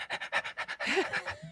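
A person imitates a dog panting with a quick run of rhythmic, breathy huffs, followed by a few looser, voiced breaths.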